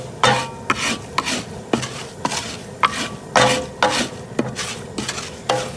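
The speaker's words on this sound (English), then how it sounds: "This is gonna start to pop, and we wanna keep it stirring." A spoon stirs kettle corn sugar and oil in a pot with repeated scraping strokes, each a sharp rasp against the metal, over a faint sizzle, close and steady.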